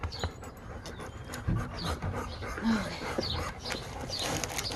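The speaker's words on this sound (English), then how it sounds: "big old dog" A dog pants close by in quick breathy pulses, with a few soft whimpers and small yips mixed in.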